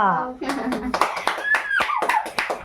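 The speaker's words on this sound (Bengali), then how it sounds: "তালিয়া।" Children clapping their hands in applause during an indoor party game at home. Quick, uneven claps come close by while a voice speaks over them.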